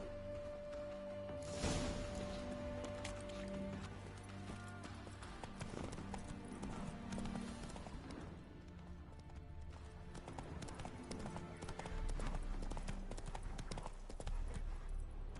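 Hooves of Roach, a horse in The Witcher 3 game, clip-clopping in a steady rhythmic trot, fairly close and continuous under game ambience, with no talk.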